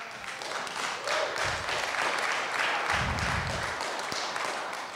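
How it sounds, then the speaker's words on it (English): A church congregation claps during a sermon, a moderate, somewhat distant patter of hands that swells in a couple of short bursts over a roomy background. "Shh, easy on the clapping."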